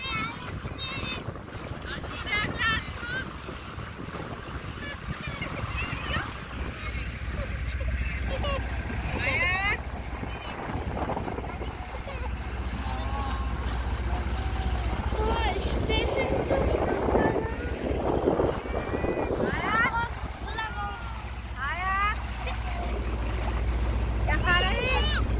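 A fast-moving tourist boat crosses the Gularbhoj dam reservoir in Uttarakhand, its engine and the rushing water and wind making a steady low roar throughout, with people talking and calling out over it.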